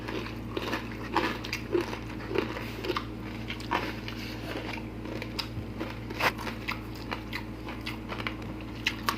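Crunchy bites and chewing of crispy oven-roasted pork belly come in close, irregular crackles over a steady low hum, with no talking.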